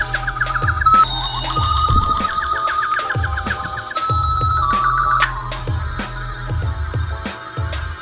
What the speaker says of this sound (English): So it makes its other cow sound effects once you grab it.